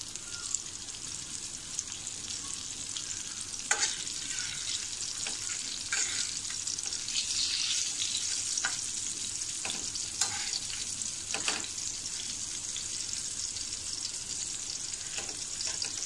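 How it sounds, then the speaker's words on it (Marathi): Rupchand (pomfret) fish fried on a tawa, a steady hissing sizzle of oil that stays even throughout, close by, with a few sharp clicks of spatula or utensil on the pan. "आता आपले मासे दोन्ही बाजूनी व्यवस्थित भाजून झाले आहेत."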